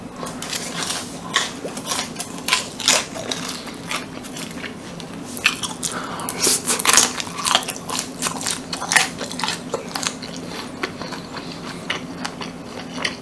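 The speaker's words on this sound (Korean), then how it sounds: "이거는 짜장면 두 개랑 이거는 찹쌀탕수육이에요" Close-up eating of Korean jajangmyeon black bean noodles and crispy sticky-rice sweet-and-sour pork, with repeated crunchy bites and wet chewing in an irregular rhythm and no talking.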